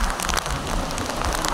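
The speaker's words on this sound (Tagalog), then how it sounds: "Ang ulan, grabe. Hindi nyo na maaninaw sa sobrang lakas." Heavy rain pours down at a beach in a dense, steady roar of hissing drops with no letup, loud and close.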